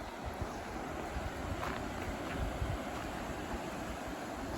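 The River Tarp flows under a small footbridge on a misty hill walk, a steady broadband rush of water mixed with wind buffeting the microphone, continuous and fairly close, with no voices.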